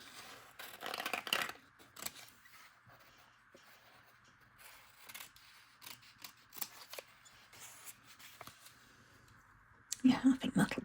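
Scissors snipping a paper picture out for a vintage-style spring artist trading card, a close series of soft, crisp cuts and paper rustles at a quiet level, with a louder burst of handling near the end.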